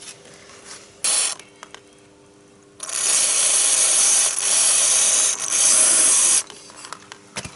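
A fine cleaner is sprayed onto the gear selector seal area of a motorcycle, first in a short hiss and then in a long, steady close-up spray of several seconds with a brief break midway.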